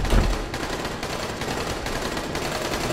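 Rapid automatic gunfire in the zombie video game Dying Light, a dense, continuous stream of loud shots with brief gaps, close and unbroken for the whole stretch, no voices over it.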